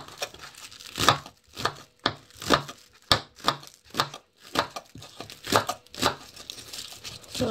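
Knife blade chopping fresh white onion leaves into tiny pieces on a board, a fast irregular run of close, crisp cuts with short pauses between bursts.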